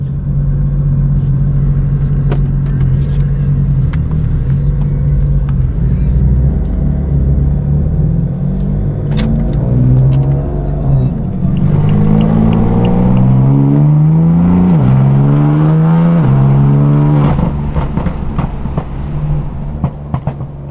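A tuned BMW M4's loud exhaust drones and rises through several revs, with a series of sharp pops and crackles breaking through as the engine note rolls on.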